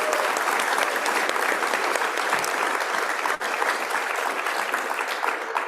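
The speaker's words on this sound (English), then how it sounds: "Let's give a big round of applause for Leucadia Streetscape." A crowd at a State of the City address claps enthusiastically, producing a thick, continuous roar of applause that holds at an even level throughout.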